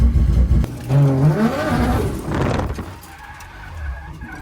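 A 1JZ-powered Nissan S13 drift car spins on a wet track, loud and close, with a revving engine note that rises and falls and a rushing hiss of tires and spray, and no talking.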